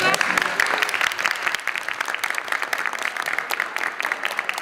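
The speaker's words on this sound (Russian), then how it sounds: "И эти аплодисменты в конце лекции – тому порука." Applause from a lecture audience at the end of a talk: a dense, steady wash of many hands clapping, fairly close and sustained throughout, with no speech over it.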